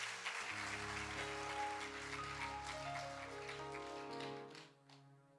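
A church congregation claps together in a dense, sustained round of applause under a steady musical drone, fading out near the end.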